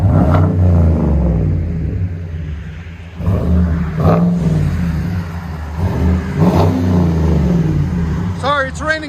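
Chevy 6.6L V8 work truck with aftermarket exhaust revving in rain, several deep throaty rev blips rising and falling, loud and close, with a bird chirping briefly near the end.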